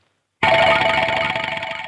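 A telephone rings in a Hindi film scene after a short silence. One bright electronic ring starts sharply, sounds close and clear, and fades slowly with no voices over it.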